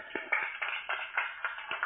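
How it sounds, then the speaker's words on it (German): Clapping in a phone-scam prank radio play, a few hands producing uneven rhythmic claps over a thin background rustle, moderately quiet and without voices. "So ein Applaus an dich,"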